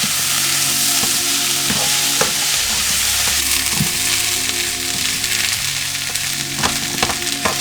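Vegan smart crumbles for chili, already cooked, warming in a hot pan: a steady loud sizzle with repeated scraping and stirring knocks from a utensil against the pan.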